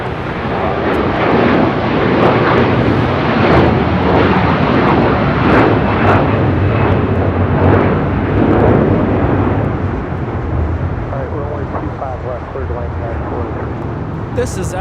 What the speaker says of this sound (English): 932 taking off to Copenhagen on the A330 300.